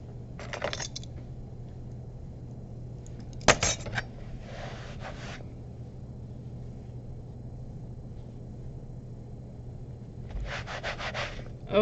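A kitchen knife chops garlic on a cutting board, with short bursts of brisk cuts early on, a sharp knock midway, and a quick run of strokes near the end, all close and fairly quiet over a low steady hum.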